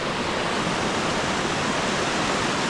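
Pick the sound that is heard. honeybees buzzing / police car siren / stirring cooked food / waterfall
waterfall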